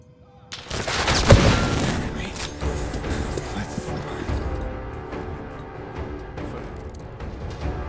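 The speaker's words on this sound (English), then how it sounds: "She hates gunfire." Gunfire in the Fallout 4 video game opens with a loud burst of shots and crashes, then trails off into a long, decaying rumble and scattered echoing reports.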